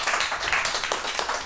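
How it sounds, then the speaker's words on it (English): A live audience claps after a talk about one woman's voyage across the Pacific, steady broadband patter throughout, moderately loud and close, with no voices over it. "can we get a round of applause for Adrienne Smith?"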